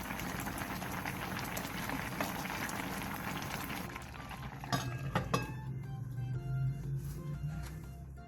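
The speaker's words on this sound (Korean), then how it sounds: "물이 바글바글 끓어오르면 중약불로 줄인 뒤 뚜껑을 닫고 15분 정도 푹" Soup bubbling in a covered pot for a Korean side-dish meal, a steady dense hiss of boil with faint clinks of lid or utensils, quieter and more settled toward the end.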